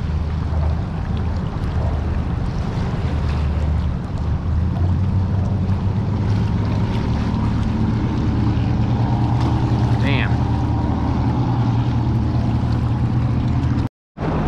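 Strong wind buffeting the microphone on a bridge while fishing, a constant low roaring rumble that stays loud throughout, with a person talking now and then over it.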